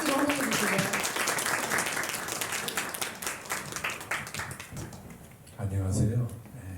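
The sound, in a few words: applause welcoming the university president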